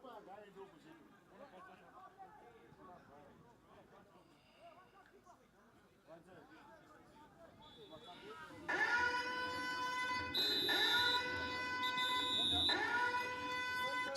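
A loud, sustained electronic buzzer sounds at a school soccer tournament match, starting abruptly about two-thirds through with steady harmonic tones that pause briefly, preceded by crowd murmur and commentary.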